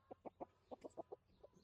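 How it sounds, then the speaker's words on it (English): Backyard chickens give a short run of soft, rhythmic clucks, about eight evenly spaced low bursts close by, fairly quiet with a faint higher chirp near the end. "We have happy chickens."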